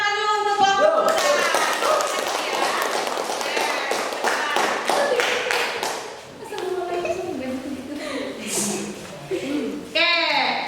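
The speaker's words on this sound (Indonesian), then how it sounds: "Oke, tepuk tangan dulu untuk kelompok kita." Classmates applaud a student group in a high school classroom, a dense burst of clapping with some voices and cheers lasting several seconds before fading as a teacher speaks.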